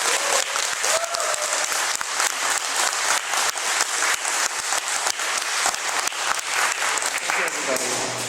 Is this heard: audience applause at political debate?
yes